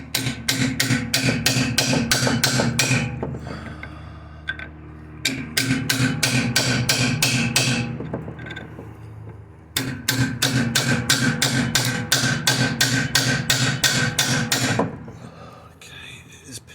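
Hammer blows on a polyurethane rear suspension bush in a Vauxhall Vectra GSI arm, a steady run of loud, close metallic strikes in bursts with short pauses between them.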